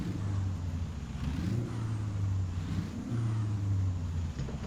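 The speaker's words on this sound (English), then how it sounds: "I love the sound of it. Just listen to it revved up." A heavy truck engine in American Truck Simulator revs with a steady low rumble, rising into two sustained higher-pitched surges, loud and continuous with no talk.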